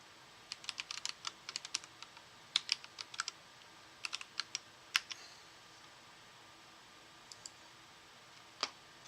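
Quiet bursts of typing on a computer keyboard, quick clusters of crisp key clicks separated by pauses, heard nearby in a calm room without speech.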